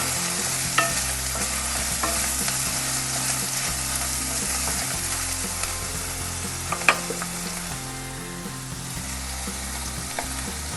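Small pieces of carrot and capsicum frying in a pan while being stirred, a continuous close sizzle with scattered spoon scrapes and a couple of sharper clicks, steady and fairly quiet, with a low hum running underneath.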